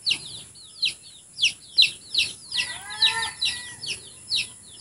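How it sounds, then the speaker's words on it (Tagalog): Chickens near the speaker give repeated bright clucks and chirps, about one every half second, close and fairly loud over a quiet background. "kay napoy manok ari mga bade nga dunduol nako sige tingog"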